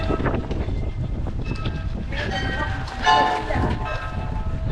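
Strong wind gusts buffet the microphone on a rainy shopping street in the city of 's-Hertogenbosch, Netherlands, a loud, continuous low roar with a brief surge near the end.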